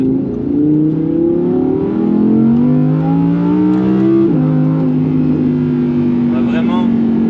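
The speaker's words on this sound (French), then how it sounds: "on entend le magnifique son du V10 qui est juste exceptionnel" An Audi R8 V10 RWS with a naturally aspirated V10 engine drives and revs, its loud tone climbing through a gear, dropping sharply at a shift, then rising again, under someone talking.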